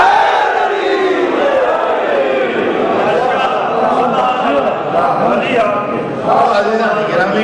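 Large crowd at an Urdu religious gathering (majlis) chanting slogans together, a dense continuous roar of many voices with rising and falling shouted phrases, loud and sustained.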